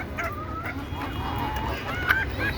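Native desi chickens in a backyard flock give sharp, honking calls, several short cries rising over a steady low rumble, with one louder call near the end and no voices.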